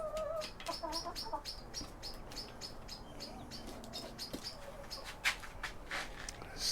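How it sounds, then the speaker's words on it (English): Backyard chickens, agitated by a small cat, cluck and squawk in quick, scattered bursts at moderate distance, with bird chirps mixed in over a faint background. "The chickens freak out when this little cat comes around."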